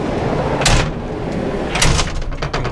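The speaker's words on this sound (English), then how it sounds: "Bring the kitchen out to full extension." A Dunn & Watson slide-out camping kitchen pulled out on heavy-duty locking drawer slides, with a rolling rumble and two sharp clunks as the runners travel and stop.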